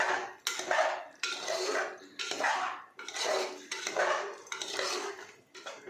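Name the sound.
mixing soaked rice and vegetables in a pot for pulao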